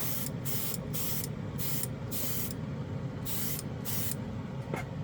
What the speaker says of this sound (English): this airbrush really likes this paint